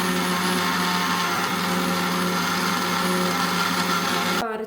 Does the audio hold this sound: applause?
no